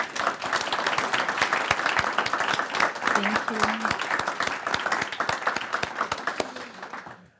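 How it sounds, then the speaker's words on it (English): An audience at a 2024 AI conference breaks into sustained, dense applause that fills the room for several seconds, with a brief spoken voice over it before the clapping fades out. "I hope that you will all be joining me in a big applause for Branka"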